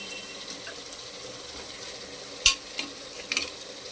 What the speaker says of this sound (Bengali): বিরিয়ানির মাটনটা কষানো হচ্ছে।